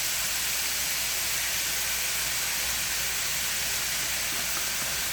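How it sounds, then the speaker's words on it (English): Sofrito hits a hot pan of ground beef for a Mexican-style tamale relleno de picadillo casserole, giving a steady, even sizzle and hiss throughout with no talking. "And now I'm going to add the sofrito."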